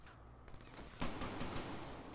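Rapid gunfire bursts in Call of Duty Black Ops 3 during a 3v3 competitive match, loud sharp volleys cracking over a steady background with a heavier barrage near the end.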